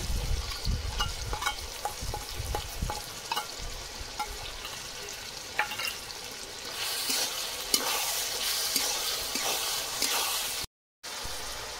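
Garlic and ginger paste fries in a pan for Hyderabadi chicken, a steady close sizzle with stirring scrapes that grows louder and hissier toward the end, then cuts off briefly.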